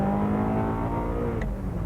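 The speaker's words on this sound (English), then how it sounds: "all that unmistakable Ferrari noise too" Ferrari Formula 1 car engine at the 1996 French Grand Prix, a loud sustained high-pitched whine with steady engine tone, close and dominant, no speech over it.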